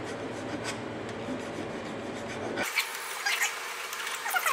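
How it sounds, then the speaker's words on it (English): A hand file cleaning up the edge of a metal workpiece held in a vise: a continuous close, gritty scraping rasp that shifts to a thinner, brighter scraping partway through. "We'll use our file to kind of clean up this edge"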